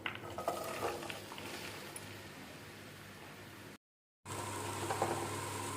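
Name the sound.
onions added to hot oil in a frying pan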